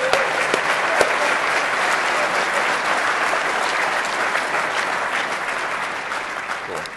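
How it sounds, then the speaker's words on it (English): An audience at a DEFCON hacking conference talk claps in a dense, steady round of applause that holds loud for several seconds, then slowly eases off near the end. "go ahead. Clap"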